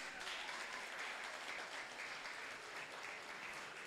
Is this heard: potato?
no